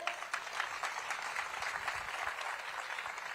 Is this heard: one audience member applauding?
yes